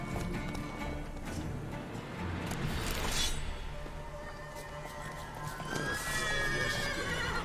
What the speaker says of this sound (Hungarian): Na, lovacska.